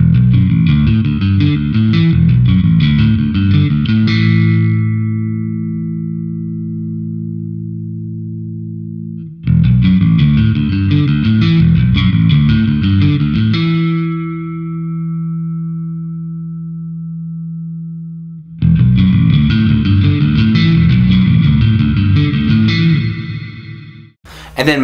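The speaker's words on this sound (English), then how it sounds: "Mode 2 is moderate reverb, which can go from a very simple spring style to a more open room style reverb." Electric bass played through a Crazy Tube Circuits Splash Mk3 reverb pedal in its moderate reverb mode, three loud phrases of plucked notes each followed by a sustained reverberant tail that decays between them.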